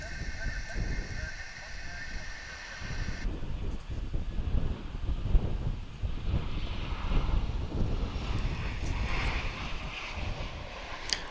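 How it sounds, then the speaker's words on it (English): An American Airlines jet arriving from Oklahoma City rumbles low and wind-buffeted, a rough, fluctuating engine roar that swells in the middle and carries on steadily, with a voice speaking over it early on. "There's American Flight"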